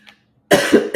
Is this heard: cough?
yes